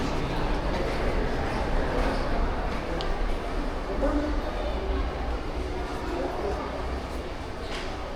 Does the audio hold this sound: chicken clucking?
no